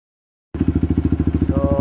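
After a moment of silence, a Honda CRF150 motorcycle with an open pipe and a knocking connecting rod fires up and runs close and loud, a rapid, rough, evenly pulsing idle.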